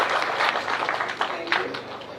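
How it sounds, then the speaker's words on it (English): Brief applause from an audience at an official exam results announcement, moderate clapping under some speech and crowd murmur. "Another round of applause,"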